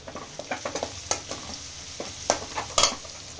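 Curry leaves frying in hot oil previously used for frying onions, a close crackling sizzle with a quick series of spatula scrapes and a few louder spattering bursts, no speech.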